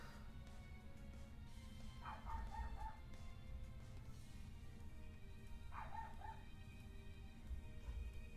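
A dog barking somewhere in a home, two short clusters of faint, distant yips and barks over a steady background hum.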